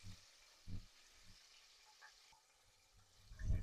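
Chicken for KFC-style fried chicken cooks in a pot, giving off a faint, steady sizzling hiss punctuated by a few soft low bumps and clatters.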